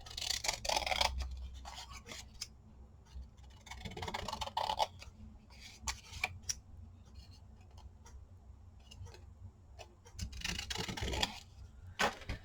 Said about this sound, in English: I'm going to trim this just a bit